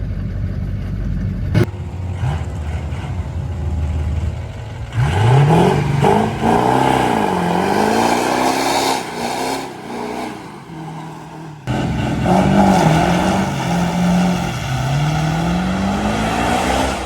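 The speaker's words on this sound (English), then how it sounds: "I'm doing a freaking John Force burnout right now. Third gear, no playing around. I'm getting this turbo hot as it can get." A 700hp 6.0 Powerstroke diesel truck with aired-down tires does a third-gear burnout, the engine roaring and surging through repeated revs with a brief cut before climbing again, loud and close.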